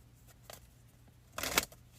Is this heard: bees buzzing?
no